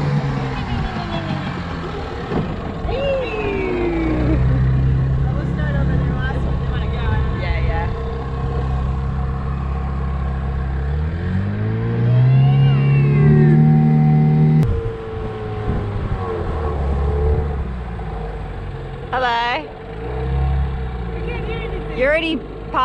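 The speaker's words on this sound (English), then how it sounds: "If we can start the engine." A sailing boat's engine turns over and settles into a steady running drone, rising in pitch at times, while people talk nearby throughout.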